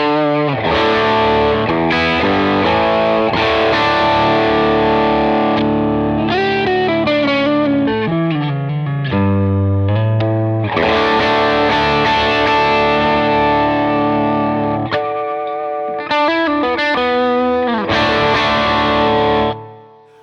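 Electric guitar run through a Cornerstone Gladio SC overdrive pedal, playing loud, sustained driven chords and single-note lines with a warm, slightly gritty tone, alone without talk for about twenty seconds before cutting off.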